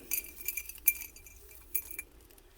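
Halloween sequins are stirred in a container, giving faint, scattered glassy clinks and rattles in short uneven bursts.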